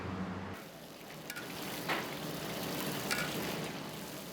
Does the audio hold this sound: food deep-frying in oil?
yes